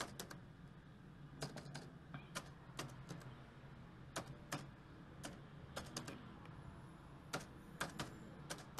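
Keys clatter on a computer keyboard as a bank name is entered, delivering irregular bursts of quick, crisp clicks over a low steady hum, with no voices.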